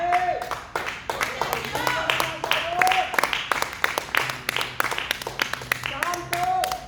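Applause from a church congregation during a worship service, steady rhythmic clapping that carries on throughout, with voices and singing mixed in underneath.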